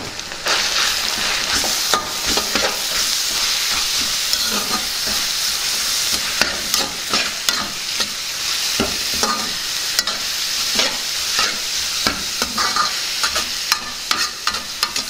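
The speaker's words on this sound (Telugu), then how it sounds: "దీన్ని కాసేపు వేగనిద్దాం" Grated beetroot sizzles steadily in a hot pan after ginger-garlic paste is added, with repeated scraping and stirring strokes throughout; close, continuous frying with no talk.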